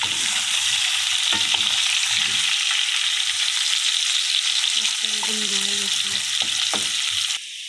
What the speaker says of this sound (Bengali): এবার আমি আলুগুলো ছেড়ে দেব। আলুগুলো আমার ছাড়া হয়ে গেছে।